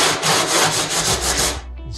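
A bucket's surface is scuffed up by hand to prepare it for epoxy, giving close, steady rasping strokes that run continuously before stopping abruptly near the end.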